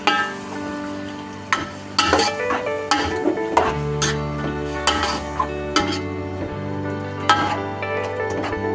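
Meat fries in a pot with garlic ginger paste for haleem, a steady sizzle broken by repeated scraping stirs and clinks of a spoon against the metal pot.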